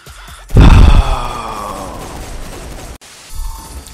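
A single heavy blast of gunfire in Saints Row 4, a loud boom that rings out and decays over a few seconds, then a fainter rumble.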